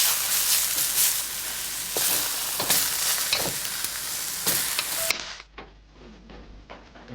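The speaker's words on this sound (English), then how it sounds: "We stir, we fry, we stir fry" Stir-frying in a pan gives a steady, close sizzle with scraping stir strokes for about five seconds, then cuts off abruptly, leaving only faint background noise.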